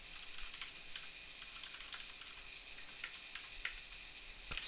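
Someone typing Python code on a computer keyboard, a quiet, close, continuous patter of key clicks with a few slightly louder strokes, no talking.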